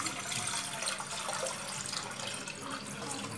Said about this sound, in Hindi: मैं एक सॉस पैन में पानी ऐड कर लूंगी